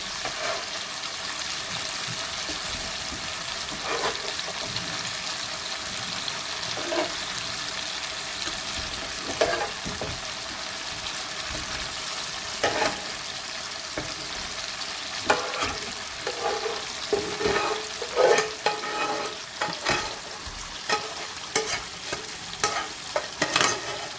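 Kofta balls frying in oil in a pan over low heat give a steady, moderate sizzle throughout, broken by scattered stirring scrapes and soft clinks that grow busier toward the end.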